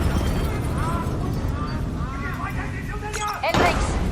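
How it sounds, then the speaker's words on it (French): Explosions rip through a building in Call of Duty Black Ops III, heard as deep rumbling blasts under game dialogue, ending with a sharper, louder burst near the close. "on a des explosions multiples dans tout le bâtiment"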